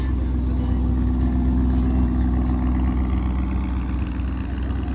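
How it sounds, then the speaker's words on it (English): A car engine idles steadily at an outdoor car show, a continuous low rumble with a mild lope, with crowd chatter and ambient noise around it throughout. "I will admit that idle has a very pleasant sound"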